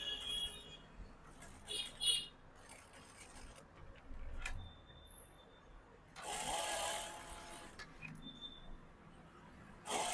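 A sewing machine stitching a shirt collar, running in short bursts of rapid whirring stitches with pauses between them, close but fairly quiet.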